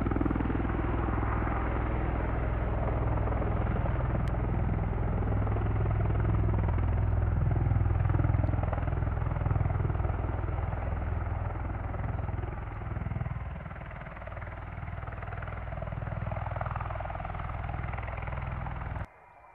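An aircraft taxiing out, its engines a steady, loud buzzing roar that eases slightly near the end, with no talk over it.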